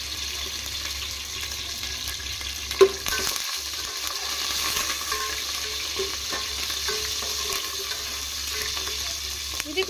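Green chilli slits, curry leaves and a pinch of fenugreek seeds fry in hot oil in a pan, making a continuous close sizzle with a sharp clink partway through and no voices.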